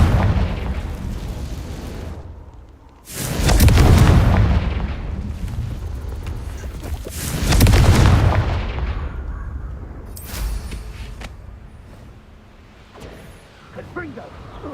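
Fiery Confringo spell blasts in the Hogwarts Legacy video game: two loud, roaring explosions a few seconds apart, each rumbling and fading, followed by smaller crackling bursts and game sounds in the background.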